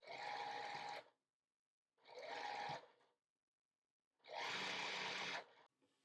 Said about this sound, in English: sew that final row together on this block